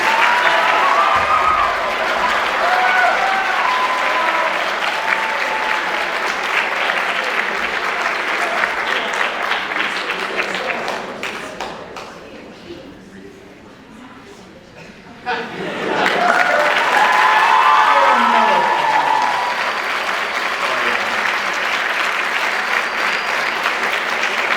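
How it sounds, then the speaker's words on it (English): An audience applauds at a school band awards concert, a long, dense wash of clapping that fades to near quiet, then bursts back up loudly and carries on steadily. "And one more round of applause"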